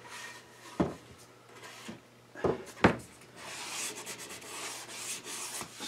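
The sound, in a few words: sanding a small bevel on a wooden toy box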